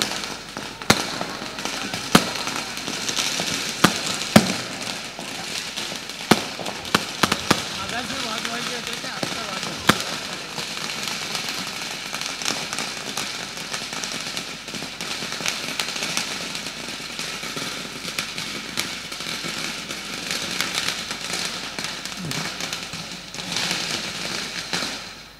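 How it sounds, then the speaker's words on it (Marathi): Firecrackers burst at a political gathering in Raigad, a string of sharp, loud cracks scattered across the first ten seconds and fading to occasional pops, all over steady crowd noise and voices. "मगाशी फटाके वाजवायचे होते पण ते आता वाजले"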